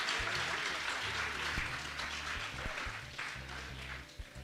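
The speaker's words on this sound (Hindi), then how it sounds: "सभी एक बार जोरदार ताली बच्चे बजाएंगे हमारे आए हुए सभी अतिथियों" Crowd of schoolchildren clapping loudly for guests at a school event in Delhi, a dense, steady wash of applause that tapers slightly toward the end, with faint voices underneath.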